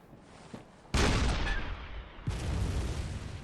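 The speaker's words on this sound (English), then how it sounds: "Shoot a cannon a whole five inches in front of you" Cannon fired at close range in the game Bloodborne: two heavy booming blasts a little over a second apart, each trailing into a long rumble, with no talk.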